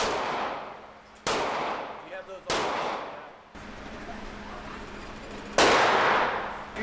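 A gun fired in bursts at a shooting range: four loud, sharp reports spaced a second or more apart, each with a long echoing decay, heard up close.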